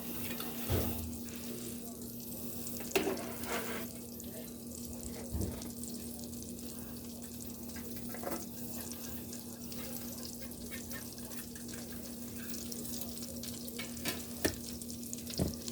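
Garlic sizzles steadily in melted butter in a pan, with a continuous frying hiss and a few clinks of utensils.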